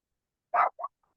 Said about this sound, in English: Carlos, what are you barking at?